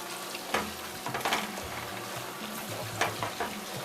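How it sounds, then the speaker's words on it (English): Tomato puree frying with onions for a chicken stew, a steady close sizzle with scraping, clattering stirring strokes throughout. "I'm going to add my tomato puree, and I'll cook it through for about 3 to 5 minutes again. You keep on stirring."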